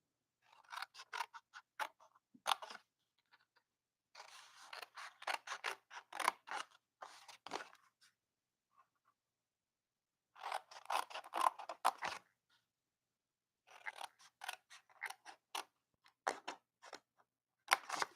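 Scissors cutting paper to shape a fold-out gift box, a series of crisp, rapid snipping bursts in several separate runs with quiet pauses between, close and clear.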